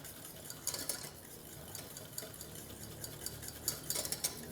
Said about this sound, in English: We switch to medium heat and keep stirring.